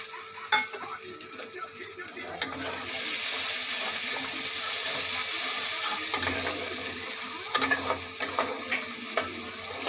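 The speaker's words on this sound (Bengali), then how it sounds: "দেখো বন্ধুরা, আমার মশলাটা ভাজা হচ্ছে।" Masala of ginger, garlic and tomato sizzles in a pan with a little added water, a loud steady hiss in the middle stretch with scattered stirring clicks before and after, no talk.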